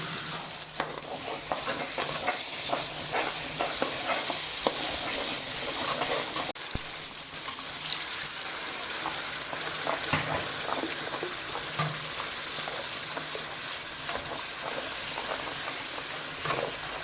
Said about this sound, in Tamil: இந்த டைமில் நம்ம அரைச்சி வச்ச மசாலாவை ஊற்றிக்கலாம்.